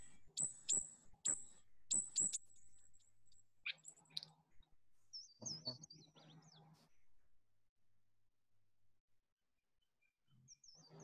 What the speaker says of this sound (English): That guy was the Louisiana water thrush.